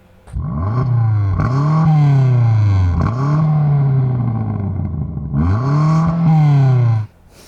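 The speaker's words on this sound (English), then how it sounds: "have a listen to this BMW M5 CS being revved while stationary all the way to its red line." BMW M5 CS engine revved while stationary up to the red line: three loud, close blips that each climb then settle, with a rough idle between and a sharp cut at the end.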